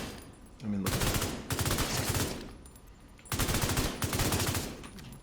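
Automatic rifle fire in The Division video game comes in two long, loud bursts of rapid, evenly spaced shots separated by a brief pause, close and dominant, with faint voice underneath.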